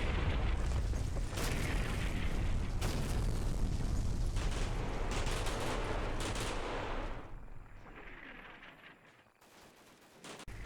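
Heavy artillery shelling pounding a town in the World War II strategy game Combat Mission Fortress Italy, continuous booms and crackling gunfire that stay loud, then thin out toward the end.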